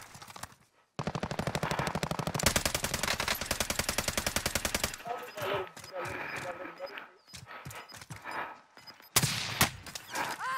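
Video game gunfire crackles in dense rapid bursts of automatic fire, loud and close, broken by short pauses and single shots, with players talking over the action.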